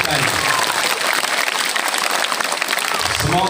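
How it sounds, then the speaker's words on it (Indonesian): Loud, steady applause from an audience at a school storytelling competition event, continuous clapping filling the whole moment with no speech over it. "Beri tepuk tangan untuk adik kita ini."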